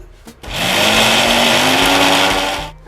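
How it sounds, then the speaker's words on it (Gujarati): A kitchen mixer grinder whirs loudly as it blends a fine fenugreek paste with a little water, revving up from a brief pause into a sustained, steady roar before cutting off. "અને આ બધું આપણે મિક્સરમાં ફેરવી લઈશું"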